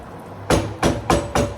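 A metal lid settling onto a cooking pot while making coconut jollof rice: four sharp clanks in quick succession, close and fairly loud, with no talking over them.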